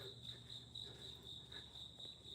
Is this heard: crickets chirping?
yes